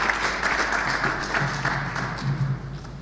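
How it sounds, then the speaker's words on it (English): Applause from a school audience during a Nigeria Police visit, a steady wash of clapping at moderate distance, fairly even throughout with a low hum underneath. "Please, a round of applause for him"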